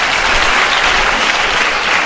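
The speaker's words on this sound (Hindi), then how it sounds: "मंगल के लिए जोरदार तालियां।" Loud, dense applause from a theatre audience honouring a drama cast member after a stage play performance, a continuous even wash of many hands clapping with no talk over it.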